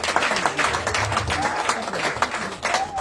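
A church congregation applauds and cheers for Jesus during a sermon, a dense continuous wash of clapping and crowd voices at steady loudness throughout, with a few brief rising shouts standing out above the noise.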